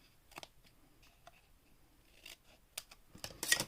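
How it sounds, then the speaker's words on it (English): Scissors cutting angles into paper, heard as quiet, sparse snips and clicks close by that grow louder and busier toward the end, with no speech. "Go ahead and do a little bit of angle cut on these."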